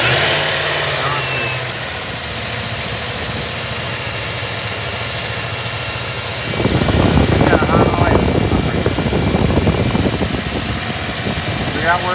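A work Jeep engine idles with its fan running, a steady mechanical hum that turns into louder, rougher fan and engine noise partway through.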